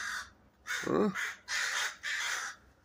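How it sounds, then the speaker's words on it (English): Crows in a tree, disturbed by a nearby owl, give three loud harsh caws in quick succession, with a brief spoken exclamation overlapping the first call. "Sure made these crows unhappy."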